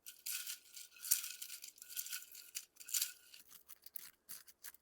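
Crisp, dry crunching and crackling from close up, as dried pollock snack is bitten and chewed in irregular bursts, with no talking.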